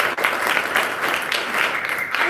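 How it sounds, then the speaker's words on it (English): A crowd of children applaud themselves in a continuous, fairly loud wash of clapping close at hand. "Children, give yourselves a clap"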